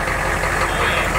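A turbo-swapped 6.5L Humvee diesel runs at a steady, loud idle, with the turbo beginning to spool under a continuous engine drone.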